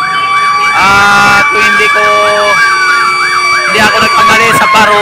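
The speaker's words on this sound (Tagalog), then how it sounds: "ang ingay ng ng fire truck mga kababayan dahil may nagkasunog dito sa may banda sa may pier" A fire truck's siren wails loudly and continuously near a fire at the pier, its rising and falling tone filling the scene while someone talks over it.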